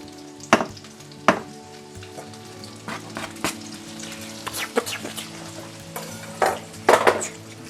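Raw meatball mixture being gently stirred and folded by hand in a bowl, giving soft wet squelches and a few sharper clicks and knocks scattered through the stretch, close and moderately quiet with no talking.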